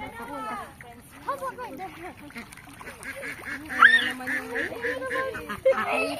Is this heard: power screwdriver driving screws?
no